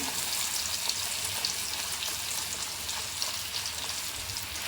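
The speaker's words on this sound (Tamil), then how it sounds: "நம்ம இப்போ இந்த மீனை இதில் போட்டு பொறிச்சிக்கலாம்" Pieces of fish frying in hot oil for a fish fry gravy, giving a steady, dense, close sizzle and crackle throughout with no talking.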